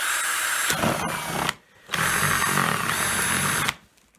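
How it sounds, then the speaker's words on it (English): A power drill whirs loudly in two sustained bursts while drilling a tap hole in a maple tree, with a brief pause between them, then stops abruptly. "and I just drill."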